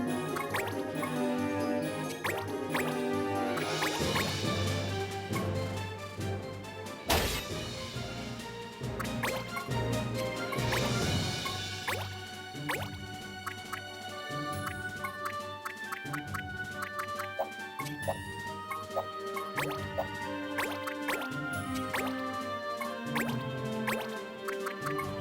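Water spell cast in Final Fantasy Tactics A2, a quick run of dripping, plopping and splashing liquid sounds with a sharp burst partway through, layered over background game music.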